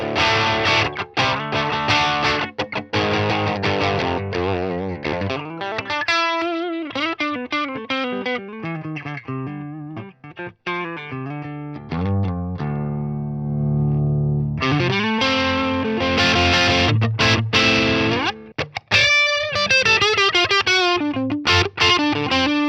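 Electric guitar played through a Devil's Triad Jeff Loomis signature distortion pedal, heard alone as loud, driven riffs and sustained distorted chords with brief pauses and a held low note midway.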